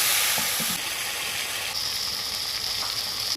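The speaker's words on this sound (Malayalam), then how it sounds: "ഷാലോ ഫ്രൈ ചെയ്ത് അങ്ങോട്ട് എടുക്കാം" Fish sizzles steadily as it shallow fries in coconut oil, a continuous bright crackle throughout with a few soft stirring knocks early on and no voices.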